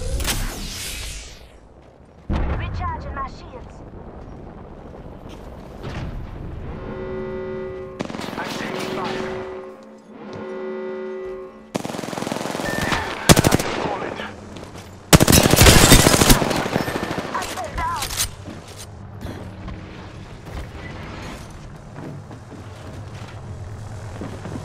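Rapid automatic gunfire bursts and sharp shots from a ranked arena match in the video game Apex Legends, loud and close, with game effects and occasional speech between volleys.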